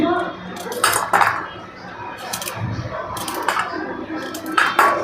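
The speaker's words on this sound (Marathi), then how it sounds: "आता मसाल्यामध्ये मी आता इथं लसूण घेतला आहे, तो थोडा कट करून घेते" Garlic cloves being chopped with a knife on a board for matar kachori masala, irregular close taps and knocks in bursts with some clattering, no spoken words.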